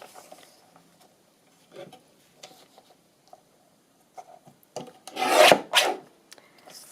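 Scissors trimming the edge of a handmade journal cover, a few faint snips and rustles followed by a louder, longer cutting rasp near the end.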